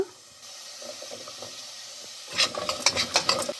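Spices and frozen coconut frying in a pan, a soft stirring scrape at first, then louder bursts of crackling sizzle in the last second or so, close by with no talk.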